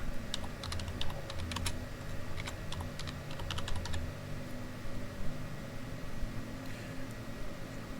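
Quiet computer keyboard typing as text is entered into a spreadsheet's find-and-replace box, a quick run of light clicks over steady background hiss, then fading to only the hiss, no talking.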